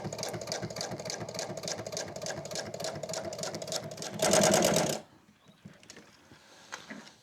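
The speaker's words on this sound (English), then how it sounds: "Now let's continue our top stitch." Sewing machine top stitching around a corner of fabric runs at a steady, close rapid rhythm, speeds up briefly, then stops, followed by quiet handling.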